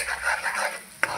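Coconut paste being sautéed in hot oil for a spicy potato curry, a soft continuous sizzle with stirring scrapes and a sharp utensil clink near the end, close and fairly quiet, no talking.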